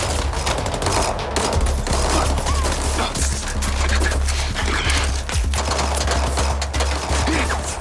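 Dense, continuous video game gunfire from a MindsEye firefight, with rapid bursts and volleys layered over a heavy low rumble, staying loud and steady throughout.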